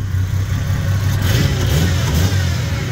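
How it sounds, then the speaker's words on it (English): A car engine, warming up and still relearning its idle, rumbles loudly up close as the throttle is blipped, the revs swelling and easing in a steady, continuous drone with no talking. "the fact that I can blip the throttle"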